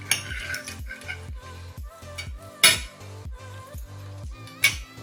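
Knife and fork scrape and clink on a plate while cutting meat at a family autumn dinner, making repeated close taps and sharp metallic clicks in an uneven rhythm, with no talking.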